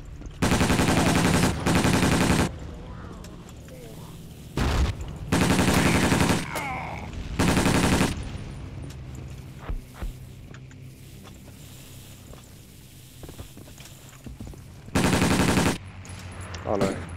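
Battlefield 1942 gameplay with bursts of heavy automatic gunfire, several loud sustained volleys separated by quieter stretches of engine-like rumble, with someone talking briefly.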